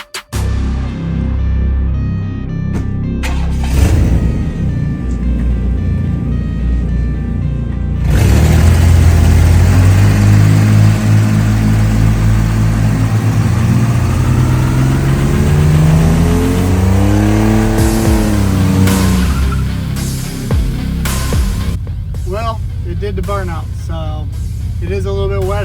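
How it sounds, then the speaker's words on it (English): An LS-swapped truck engine revs hard during a burnout on wet pavement, climbing from a rumbling idle into a loud sustained howl with rising and falling pitch sweeps, then dropping back to lighter revs near the end. "So let's go see if this thing will do a burnout."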